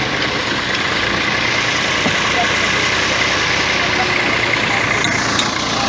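An automatic brick making machine running in first gear: a continuous dense mechanical rumble and clatter, loud and steady throughout, with a voice talking under the noise.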